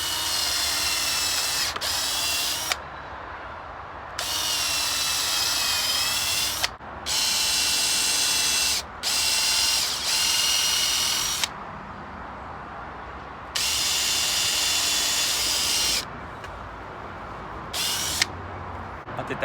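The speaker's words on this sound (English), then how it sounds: "So straight through the first board and then a little bit into the second board" A power drill drives screws into pallet wood for a raised garden bed, sounding in repeated whining bursts of several seconds each, with short pauses between them, close to the microphone.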